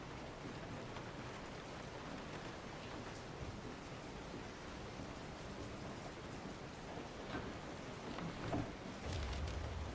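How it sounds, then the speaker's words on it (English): Steady rain falls in the survival horror game Resident Evil 7: Biohazard, a soft, even hiss of drops on surfaces throughout, with a slightly heavier patter near the end and no voices. "And it's raining."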